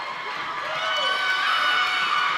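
Crowd at a high school volleyball match cheers and shouts as varsity players run through a hand tunnel, a steady wash of voices filling the gym.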